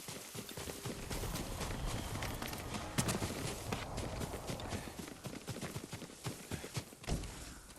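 Horse hooves clattering in a quick clip-clop as a rider gallops off in the video game Ghost of Tsushima, a busy, dense patter of hoofbeats with a faint voice underneath.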